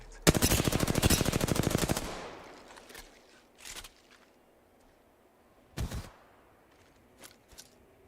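Apex Legends gunfire: a loud, rapid automatic burst rattles for almost two seconds, followed by several scattered single shots and impacts spaced across the rest of the moment.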